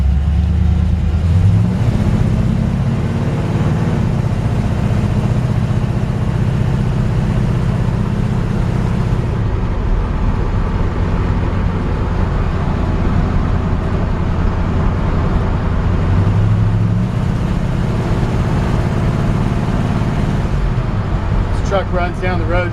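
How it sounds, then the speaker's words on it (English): A 1956 Chevrolet 3100 truck with a 350 V8 and automatic transmission cruising down the road, a steady loud engine drone and road roar throughout, with gear shifts marked by brief changes in pitch. "Truck runs down the road so nice and smooth"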